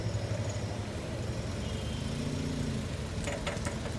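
Car engine running at low revs on an uphill slope while the clutch is slowly controlled, a steady low rumble with a faint pitch rise midway and a few light clicks near the end.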